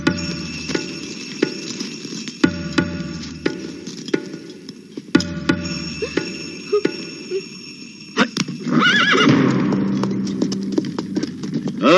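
Horse hooves clip-clopping in a steady rhythm as a horse-drawn cart gets underway, close and fairly loud, followed by a burst of louder rustling and clattering near the end.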